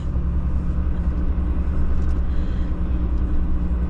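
A car passing on a country road gives a loud, close, continuous low engine rumble with road noise that stays steady for the whole stretch, with no talking over it.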